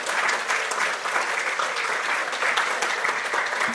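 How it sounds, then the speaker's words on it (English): An audience gives steady, dense applause at the close of a university lecture, a continuous patter of many hands that stays even and fairly close throughout. "another round of applause for Rayna, who's done a fantastic job here."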